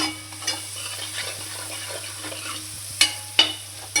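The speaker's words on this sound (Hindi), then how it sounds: "अब इस मसाले को तब तक के लिए पकने के लिए छोड़ दूँगा मैं, जब तक इसमें से तेल हट नहीं जाएगा बाहर" Masala cooking in a pan until the oil separates, giving a steady low sizzle and bubbling with a constant hum beneath and a few sharp clinks of a utensil near the end, no talk.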